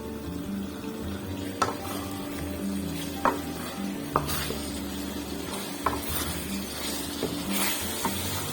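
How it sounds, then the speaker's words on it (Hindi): Green chillies fry in a pan of minced meat and peas, giving a continuous sizzle with repeated spatula scrapes and clinks against the pan at a steady pace, no talking. "इसके अंदर मैं 5 सब्ज मिर्चें ऐड करके इनकी भुनाई करूंगी।"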